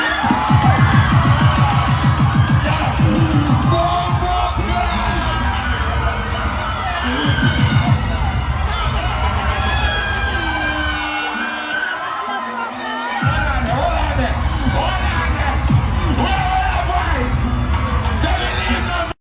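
Crowd at a live dancehall performance cheering, whooping and yelling loudly and continuously, with a brief drop in the low rumble partway through before the noise surges back.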